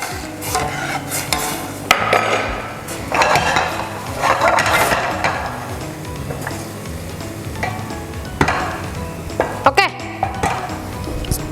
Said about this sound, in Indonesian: Kita oseng-oseng bawang putih ini sampai samping-sampingnya agak coklat dikit ya, kecoklatan.